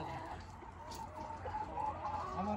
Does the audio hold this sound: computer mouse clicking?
no